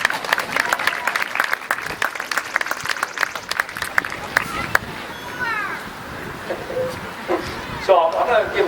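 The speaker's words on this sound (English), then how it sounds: "Supposed to clap." An outdoor crowd at a Little League ceremony claps for several seconds, then the applause thins into scattered crowd noise, chatter and bright children's voices and cries.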